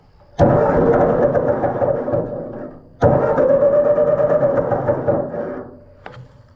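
A Ford 8N tractor engine cranks and fires twice, each time running roughly for a couple of seconds before cutting out, loud and close, with a faint knock afterward and no speech.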